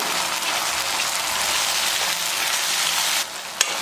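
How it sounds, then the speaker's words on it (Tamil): Tomato paste with garlic and ginger sautéing in hot oil for a mushroom gravy: a loud, steady sizzle close by that drops off abruptly near the end, followed by a single sharp click. "தக்காளியோட பச்சை வாசனை போகிற அளவுக்கு நல்லா வதக்கிக்கலாம்"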